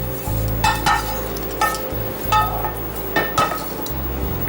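Crisp-fried coriander leaves, shallots and curry leaves are tipped into a chicken and green peas masala together with their oil, giving a few clinks and scraping stirs over a constant low hum and soft sizzle.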